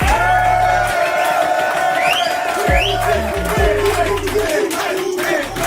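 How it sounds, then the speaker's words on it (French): A studio audience cheers and whoops loudly during a live show, with crowd shouting throughout and no clear rhythmic clapping. "Faites un tonnerre d'applaudissements pour Polska, la maîtresse!"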